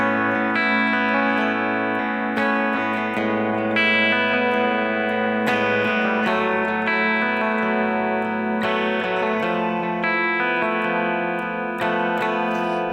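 A Fender Thinline Telecaster Deluxe semi-hollow electric guitar on its neck pickup plays a clean tone with light compression and reverb, sustained chords and notes ringing continuously and fairly loud, with no talking.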